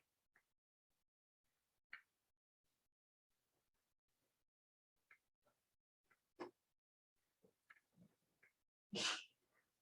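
In a quiet classroom, a single loud sneeze bursts out near the end after scattered soft clicks and small noises.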